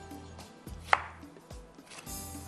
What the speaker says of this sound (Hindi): टमाटर और इसके साथ चलो इसके भी टुकड़े कर लेते हैं